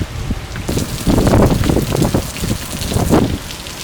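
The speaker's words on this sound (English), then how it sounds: "It's still raining" Steady rain patters close by with gusty, rumbling wind buffeting the microphone, swelling louder in waves.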